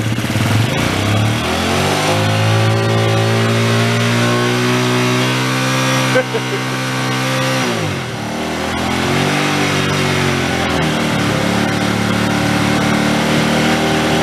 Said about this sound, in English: Rev her a little.